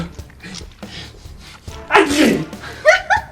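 A voice mimics a loud, explosive sneeze with a sharp burst, followed by a shorter squeaky follow-up, amid light talking.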